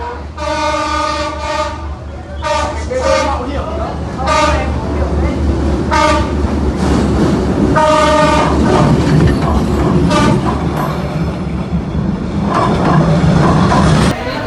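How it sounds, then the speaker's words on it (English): A train rumbles past on the tracks in Vietnam with a steady clatter, its horn sounding repeatedly in several blasts, loud and close throughout. "let's check out the video, or sorry, the clip of the train going by"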